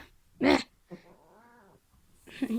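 A cat yowls loudly while being teased, one strong drawn-out cry followed by a wavering, lower moaning call and the start of another loud yowl, close by in a quiet room.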